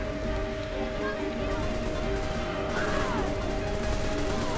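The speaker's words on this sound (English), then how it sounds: "She's getting shot at." Gunfire in the action-adventure game Deadfall Adventures crackles as a dense, continuous barrage, loud and steady throughout over a constant background tone.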